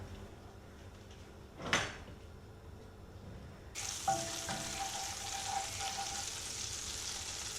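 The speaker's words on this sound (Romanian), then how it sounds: "Punem într-o tigaie o lingură din cantitatea de unt și așteptăm să se topească." A spoonful of butter melting in a frying pan on the stove for homemade chicken liver pâté, a brief clatter and then a sudden steady sizzle that keeps hissing alone, moderately close.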